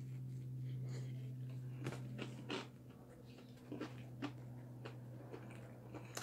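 Several close, quiet crisp crunches from biting into an oven-reheated Chick-fil-A chicken sandwich gone crunchy, spaced a second or so apart over a low steady hum.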